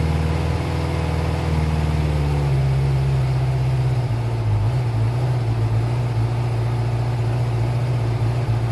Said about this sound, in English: Seems to have a very even idle rhythm. Kind of like the heartbeat of a motorcycle.